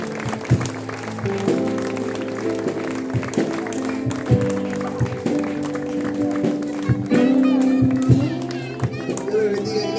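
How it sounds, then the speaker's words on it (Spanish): Church congregation clapping in praise, sharp irregular claps over sustained organ or keyboard chords and voices, fairly close and moderately loud. "Vamos a darle un fuerte aplauso al Señor"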